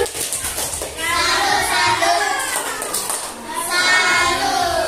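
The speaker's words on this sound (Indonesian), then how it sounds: "Mari kita berikan tepuk salut" A classroom of children claps out a rhythmic 'tepuk salut' cheer together, with chanted young voices over a busy, lively room.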